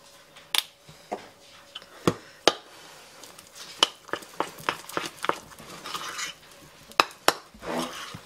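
A spoon stirs food coloring into Italian rainbow cookie batter, giving irregular light clicks and taps against the bowl with soft scraping between them, fairly close and quiet.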